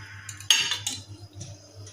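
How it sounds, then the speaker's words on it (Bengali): Food being served into a bowl, with sharp clinks and knocks of dishes and utensils, a loud strike followed by several lighter taps over a low background hum. "এটা বাটিতে বেড়ে নিচ্ছি ভগবানকে দেবো বলে"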